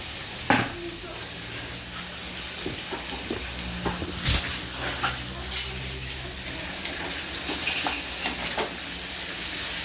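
Carrots and potatoes frying in a pan while being stirred, a steady close sizzle with scraping strokes of the spoon and a few sharper clatters, a voice speaking faintly now and then.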